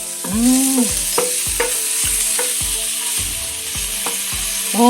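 Garlic and onion sizzle steadily in a pan, with repeated sharp scraping stir strokes at a regular rhythm, close and fairly loud, no talking.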